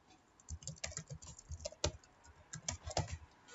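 Soft clicks of a computer keyboard being typed on at an irregular pace, quiet and close, with short bursts and brief pauses between keystrokes and no talking.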